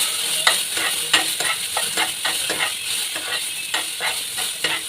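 Okra stir-fry (vendakka upperi) cooks in a pan, a soft steady sizzle broken by a rhythmic series of scraping stirs, close and moderately loud with no talking.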